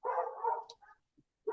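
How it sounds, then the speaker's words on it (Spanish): Small pet dog barking indoors, a drawn-out bark followed by a few short yips and a brief final bark, close and clear against silence. "mi perrito se está haciendo presente"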